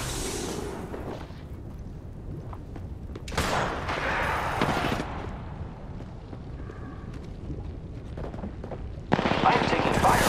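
Dense bursts of video game gunfire and explosive blasts from a Season 6 Voidwalker match rattle up close, layered with game voice callouts and effects.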